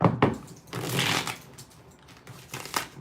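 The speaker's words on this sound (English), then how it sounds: "Let's get 4 shuffles here." Tarot cards being shuffled by hand in quick bursts of riffling and sliding, close and clear, with short pauses between the shuffles and no speech.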